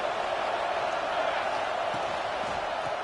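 Stadium crowd in a college football video game, Cal against Tennessee: a loud, continuous wash of roaring fans that holds steady throughout with no break.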